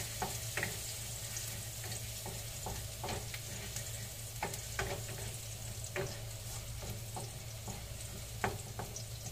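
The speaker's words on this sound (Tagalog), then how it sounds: "Lagay na natin si garlic." Garlic sizzles steadily in a pan set on a stove, under scattered sharp clicks and scrapes as the spoon stirs it, at moderate loudness with no talking.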